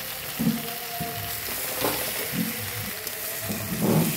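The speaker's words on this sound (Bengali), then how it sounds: "আমি যাতে ধরে না যায় সুন্দর নেড়ে নিচ্ছি" Crab being stirred and sautéed in a pan for a meat-style curry, with a steady sizzle of frying and repeated scraping strokes of a spoon at roughly one-second intervals, close and moderately loud.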